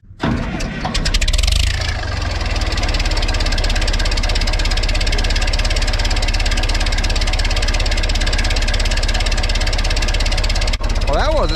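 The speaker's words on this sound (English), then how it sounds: "we'll see if this 830 will fire up" A warmed-up 830 tractor engine cranks briefly, then catches and settles into a loud, steady, throbbing idle that runs on close by without pause.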